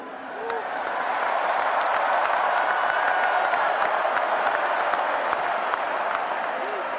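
Indiana Hoosier fans roar with sustained applause and cheering filling a stadium at a College Football Playoff semifinal Peach Bowl, a dense, steady wash of clapping that swells in the first second and holds, with voices mixed in.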